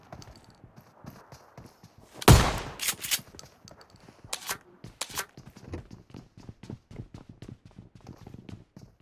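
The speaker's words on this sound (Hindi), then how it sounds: "अब ये बंदा इस घर के पीछे होता है तो थोड़ा बहुत इसको डैमेज देता हूँ शॉटगन से।" Shotgun blasts in the mobile game BGMI: one loud, sharp shot followed by a few quieter bursts, over the soft rhythmic patter of in-game footsteps.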